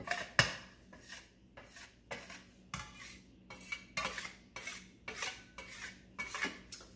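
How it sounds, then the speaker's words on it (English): A metal spatula scrapes repeatedly across a kitchen countertop while dough is being cleaned up after making non-dairy biscuits. Short, close metallic scrapes come in an irregular rhythm, with no talking. "I use my metal spatula here to kind of help me"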